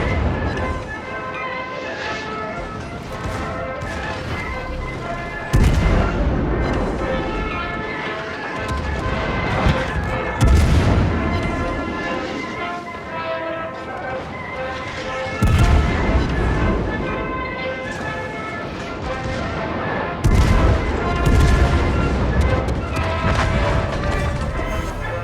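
Heavy warship gun turrets boom repeatedly in a World of Warships naval battle, loud broadside salvos recurring every few seconds over a constant roar of engines and sea.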